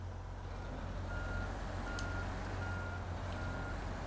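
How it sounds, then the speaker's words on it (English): Steady electronic reversing beeps from a truck in the snowy off-road driving game SnowRunner repeat at an even pace under a constant engine drone, with no talking. "Let me put this in reverse first before I grab onto him."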